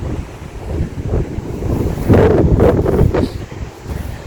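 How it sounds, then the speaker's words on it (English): Strong gusty wind buffets the microphone in a Gothic Anglican church cemetery in Penrith, NSW, a loud, rumbling roar that surges and eases in waves for the whole stretch, with no voices. "There's a lot of wind we got."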